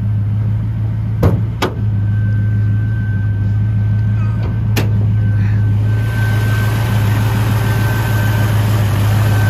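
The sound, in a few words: 1964 Ford Mustang V8 engine idling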